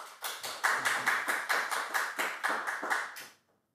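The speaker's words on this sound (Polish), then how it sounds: "Brawa." Audience applause greets a guest lecturer at a Polish history talk: steady, dense clapping from a full room that swells quickly, holds for about three seconds, then stops abruptly.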